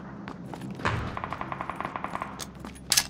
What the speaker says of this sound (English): I've got this shitty-ass light machine gun